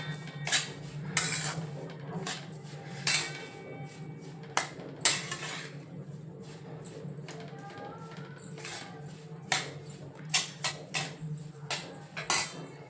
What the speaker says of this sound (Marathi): आणि हे आता मिक्स करून घ्यायचं व्यवस्थित